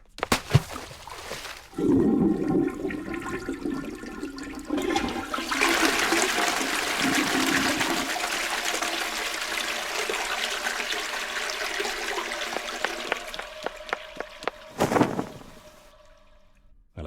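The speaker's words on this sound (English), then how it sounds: "I believe the plumbing has backed up again" Rushing water from backed-up plumbing in a point-and-click adventure game, a loud, sustained flush-like gush with trickling that runs for many seconds before cutting off, with no talk over it.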